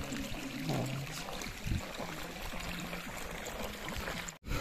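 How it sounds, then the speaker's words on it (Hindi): Borewell water gushing from a pipe into a wheat field, a steady broadband rush and splash that runs continuously at close range with no talk over it. "अब पानी कैसे पाइप में निकल रहा है और गेहूं में जा रहा है"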